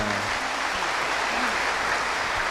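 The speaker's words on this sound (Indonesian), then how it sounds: "berikan tepuk tangan semuanya" An audience at an Islamic lecture claps together in a dense, steady burst of applause that holds at an even, full level throughout.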